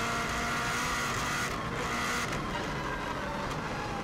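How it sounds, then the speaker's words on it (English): Subaru WRX STI race car driving the bumpy Isle of Man TT road course between Ginger Hall and Ramsey, a loud steady engine roar with road and wind noise running throughout, no talk. "Car bouncing around quite a bit."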